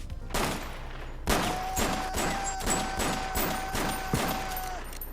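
Rapid gunfire in the closing scene of the comedy film Superbad, a loud run of evenly spaced bangs roughly every half second over a sustained tone, continuous and close with no talking.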